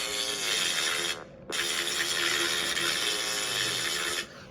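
A melodic chomp synth sample from a Citrus sample pack, a dense buzzy tone with stacked harmonics that plays steadily, cuts out briefly near the middle, returns and drops away near the end, with no talk.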